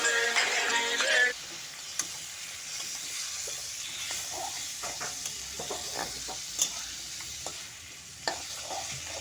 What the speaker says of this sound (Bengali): এটাকে লাহে লাহে কষিয়ে নিতে হবে।